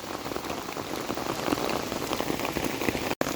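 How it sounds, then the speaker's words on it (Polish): Steady heavy rain drums densely on a nearby surface while fishing by the Bug River, with a constant hiss and scattered closer drops, briefly cutting out at the very end. "dziś poszliśmy na ryby i jest urwanie chmury"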